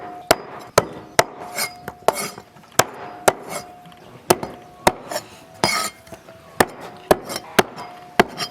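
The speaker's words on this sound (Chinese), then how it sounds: "把鸭脖先剁一下" A cleaver chops duck necks on a board, sharp loud whacks repeated at an irregular steady rhythm, close up with faint clinks between strikes.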